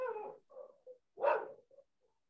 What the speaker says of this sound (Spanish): Cuidado con el perro que no vaya a morder